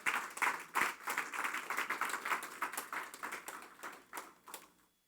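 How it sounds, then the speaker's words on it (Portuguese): A church congregation claps in praise to Jesus, a thin, uneven patter of individual hand claps that gradually thins out and stops, fairly faint with no voices over it. "Dê uma salva de palmas ao Senhor Jesus."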